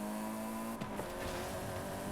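Engine whine from cars racing in a video game, a sustained tone that jumps in pitch as a gear shift or tire squeal cuts in, loud and without speech.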